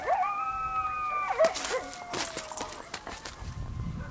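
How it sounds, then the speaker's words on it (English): Nearby coyotes howl at Patagonia State Park in Arizona, long sliding wails overlapping in a chorus, then breaking into shorter yips and scattered barks before fading. "Let them hear the coyotes."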